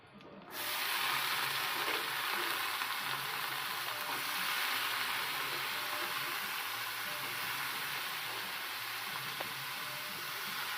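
Onions frying in a pan during home cooking, a steady, even sizzle that holds at a constant level near the microphone for the whole stretch after a brief quiet start, with no talking.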